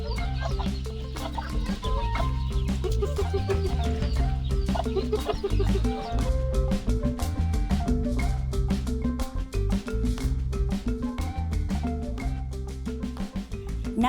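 Chickens cluck and squawk continuously in a dense, busy chorus, loud and close, with overlapping calls throughout.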